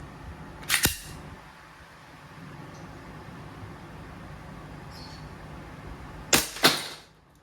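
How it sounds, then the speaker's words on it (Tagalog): Two sharp, crisp pops from a WE Glock 17 Gen 4 airsoft pistol, the first near the start and a quick double shot later, each a loud snappy crack with brief mechanical clack, separated by quiet room tone. "Firing. Testing Glock 17 4 series airsoft."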